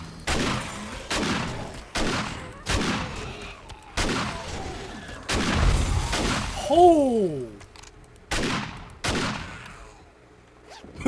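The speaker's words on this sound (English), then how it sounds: "That was a lot of explosion." Explosions and gunfire from the video game 7 Days To Die, a rapid series of loud booming blasts at regular intervals, with a short electronic tone partway through and some speech underneath.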